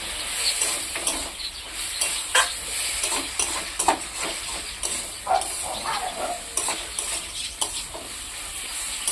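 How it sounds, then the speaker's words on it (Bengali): Spice paste with a splash of water being stir-fried in a pan, a steady wet sizzle broken by frequent scraping strokes of a spatula, close and fairly loud throughout. "অল্প করে জল, জলটা দিয়ে ভালো করে কষে নিই"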